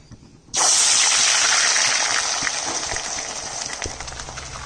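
A piece of catla fish drops into a hot wok of mustard oil and erupts into a loud, sudden sizzle that continues as a steady hiss, slowly easing off, with no talk.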